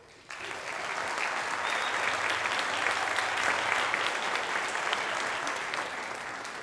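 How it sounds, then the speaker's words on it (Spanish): A theatre audience claps for the youth orchestra's horn player at a film-music concert in La Florida, the applause starting abruptly after a brief pause and continuing as a full, steady wash of many hands. "Un fuerte aplauso para nuestra cornista."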